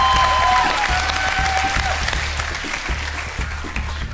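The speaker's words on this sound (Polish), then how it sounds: "wielkie brawa dla Ani" Audience applause for a performer named Ania at a Voice of Poland concert, a loud, dense wash of clapping that holds steady for several seconds before easing slightly, with a faint whistle-like tone near the start.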